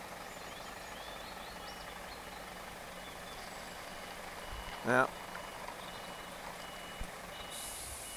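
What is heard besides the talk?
lorry reversing with reversing beeps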